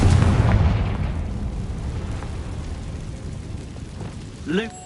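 A Confringo fire-blast spell in a video game goes off with a heavy boom that rolls into a long, fading rumble, followed near the end by a short burst of voice.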